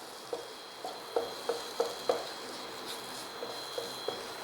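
Coriander, chili and garam masala powders are sautéed in a pan for Kerala-style kadala curry. A spatula scrapes and taps in a string of soft, spaced strokes over a faint, quiet sizzle.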